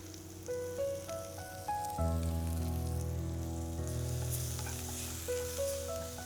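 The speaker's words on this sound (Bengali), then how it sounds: "খুব সামান্য তেলে আমরা এগুলোকে সাতলাচ্ছি" Onions sauté in a small amount of oil for a restaurant-style bhetki fish curry, a steady close frying crackle and sizzle with occasional stirring, all under a melodic background music track.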